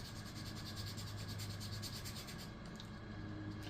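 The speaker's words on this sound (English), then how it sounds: "Give it another sand down, about the same as I did before." Steady rhythmic rubbing of sandpaper on a bagpipe reed, quiet and close, with repeated back-and-forth strokes and no voices.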